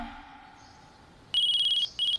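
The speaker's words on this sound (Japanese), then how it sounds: "これランマルが命の次に大事にしてる携帯じゃん" A mobile phone in the anime Yamato Nadeshiko Shichi Henge: The Wallflower rings with a bright electronic trilling ringtone, two loud close bursts that break a near-silent stretch.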